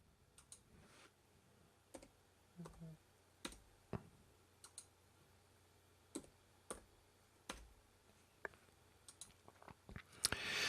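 Computer keyboard typing: scattered key clicks and taps spread across the stretch, ending in a slightly louder burst of presses, fairly close and quiet with no talk.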